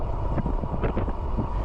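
Wind buffets the microphone while riding a MeeBike Gallop electric bike at speed on a windy day, a close, ragged rumble that gusts and flutters throughout the short stretch.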